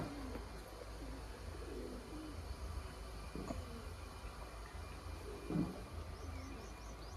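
Pigeons coo softly at a water channel where they come to drink, a few low throaty calls against faint outdoor background noise.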